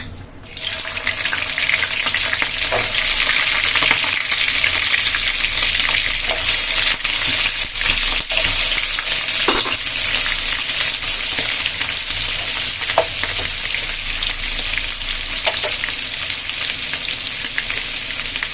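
Prawns frying in melted ghee give a loud, steady sizzle close up that starts abruptly and holds throughout with faint stirring clicks, and no one talks.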